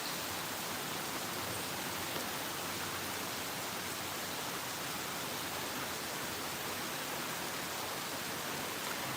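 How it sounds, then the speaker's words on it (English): Rain falls in a dense, continuous hiss that stays even and unbroken throughout, with no voices or other distinct sounds. "We have rain, guys."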